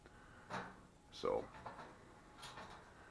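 A wood stove flue damper in a stovepipe on a homemade propane-tank wood stove is turned, giving a short metallic scrape and clunk, with a few softer knocks around it, close and moderately loud.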